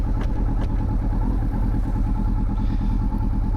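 A Yamaha R1 motorcycle engine runs steadily close by during a riding lesson, with a continuous low rumble and faint clatter and no speech over it.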